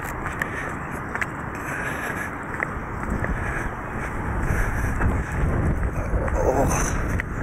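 Wind buffets a microphone outdoors near the site of the old Runcorn Transporter Bridge, a steady low rumble that swells toward the end, with faint voices in the background.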